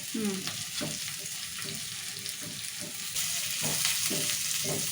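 Peanuts and roasted gram are stirred in a hot pan, a spoon scraping in steady strokes over a soft continuous sizzle, close and fairly quiet.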